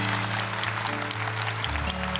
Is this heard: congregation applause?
yes